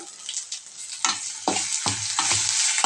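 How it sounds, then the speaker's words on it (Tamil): Ground sundakkai (turkey berry) paste sautéing in a hot pan, a steady close sizzle broken by several scraping stir strokes. "அதை இதில் சேர்த்து நல்லா வதக்கி விட்டுக்கலாம்"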